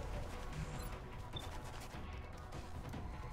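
Gunfire in the video game XCOM Long War, a dense burst of shots and crashes over a continuous loud noisy backdrop.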